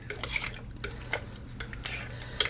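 A spoon stirs creamy potato soup in a pot, making several distinct scraping clinks against the metal at irregular intervals over a low hum, with no one speaking.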